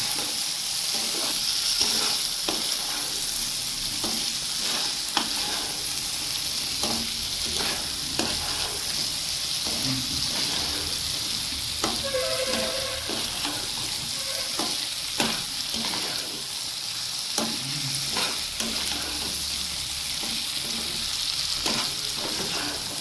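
Boiled eggs being stirred and fried in spiced oil in a pan for egg curry, a constant close sizzle broken by repeated scraping stirs throughout.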